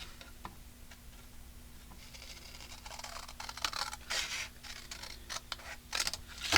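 Scissors cutting a piece off an old photo album, a quick run of crisp snips and scratchy cuts growing louder toward the end, with no talking.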